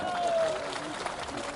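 A political rally crowd in Gilgit claps in a steady, fairly faint wash of applause, with a voice speaking over it.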